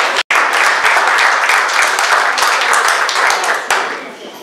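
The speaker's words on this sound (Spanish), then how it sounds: "el aplauso para ella también" Audience applause at an award ceremony: dense, sustained clapping from a crowd, loud and steady for several seconds with a brief break near the start.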